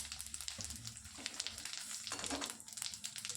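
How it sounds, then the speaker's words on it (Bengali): Cumin seeds, dried red chillies and bay leaves sizzle in hot oil and butter in a pan, a faint, steady crackle with small pops throughout and no voices. "এবার আমি এর মধ্যে দিয়ে দিচ্ছি 1 চা চামচ মতন জিরে, 2টো শুকনো লঙ্কা আর 2 পিস তেজপাতা।"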